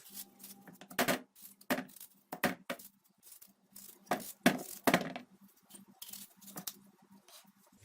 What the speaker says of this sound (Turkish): leğenimi aldım ve domateslerimden doğramaya başlıyorum